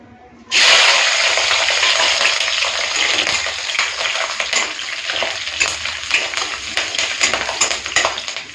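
Garlic and green chillies dropped into hot mustard oil, bursting into a loud, steady sizzle that settles into continuous close frying with light stirring and scraping of the pan, no voices.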